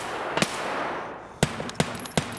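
A weapon in a video game beta firing single sharp shots, four separate cracks at irregular intervals over a low ambient hum, with no automatic burst.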